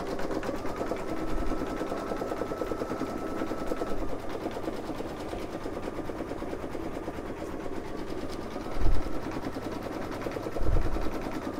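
An embroidery machine stitches a free-standing lace gnome ornament, a steady, close, rapid mechanical whirring and rattling that runs continuously, with a couple of brief low thumps near the end and no talking.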